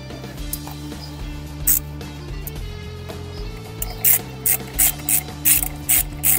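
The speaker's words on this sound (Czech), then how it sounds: "Dotáhneme šrouby na rozetě, který jsme si přitáhli předtím jenom na zkusmo." Ratchet wrench tightening the rear sprocket bolts on a BMW F800 GS motorcycle during a chain kit change: a steady run of sharp, rhythmic clicks at close range that grows more regular toward the end, with no one speaking.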